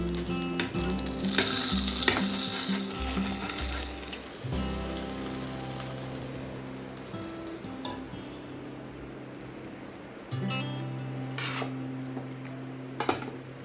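Hot tempering tipped into a bowl of coconut chutney for dosa or idli, frying with a loud close sizzle that crackles at first, settles into a steady hiss, then fades slightly with a few clinks near the end.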